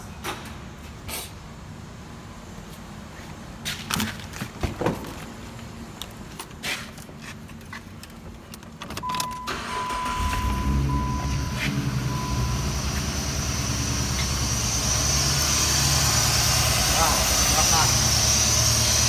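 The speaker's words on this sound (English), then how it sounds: "I'm gonna go ahead, start the car again, see what happens." A Jeep Grand Cherokee engine cranks and starts after a serpentine belt tensioner replacement, settling into a steady, loud idle that fills the second half after some earlier clatter.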